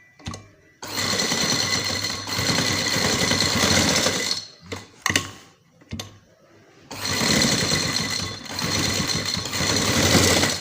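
A sewing machine stitches a trouser cuff in several long, loud bursts of fast needle chatter and motor whir, broken by short pauses and clicks, with no speech.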